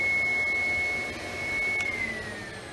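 A My Pet Command dog hair dryer blows air with a steady whooshing hiss and a thin whine running through it, close and constant.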